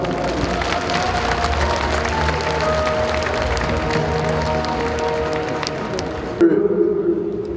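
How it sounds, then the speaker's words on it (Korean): At a centenary commemoration ceremony for President Kim Dae-jung, a large audience applauds steadily, a broad wash of clapping with a low murmur underneath that cuts off near the end. "여러분, 권노갑 이사장님을 큰 박수로 맞아주시기 바랍니다."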